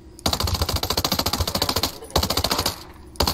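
Rapid automatic gunfire in Ghost Recon Breakpoint, loud and close, two sustained bursts of evenly spaced shots separated by a short pause, with a brief burst starting again at the end.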